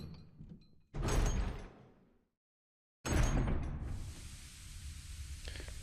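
Door unlocked with a key and swung open in the Resident Evil HD Remaster game: a loud mechanical clunk and creak, a sudden cut to silence, then a second heavy burst trailing into a steady hiss of room ambience.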